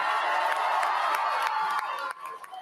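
Crowd at an Australian federal election event cheering and whooping in a sustained wash with scattered claps, then dropping off abruptly near the end.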